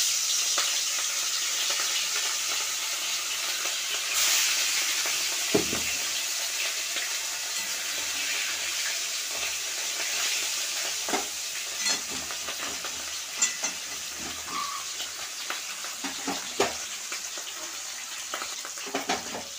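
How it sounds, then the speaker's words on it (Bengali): Two fish fry in hot oil in a Bengali home kitchen, giving a continuous sizzle with occasional sharper pops and spatters, heard alone at moderate loudness for about twenty seconds. "গরম হয়ে গেছে, আমি মাছ দুটো ভেজে নেব।"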